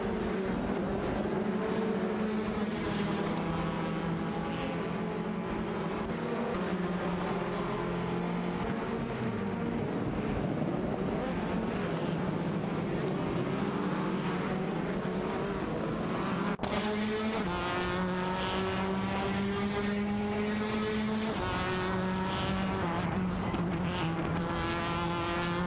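Honda Civic FA and Alfa Romeo Giulietta TCR race cars in a racing video game howl with loud, continuous engine notes that rise and fall through gear changes, with tire noise layered in and no talking.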